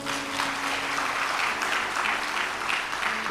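An audience at a devotional religious discourse breaks into sustained applause, a loud, steady wash of clapping from a large crowd filling the whole span without pause.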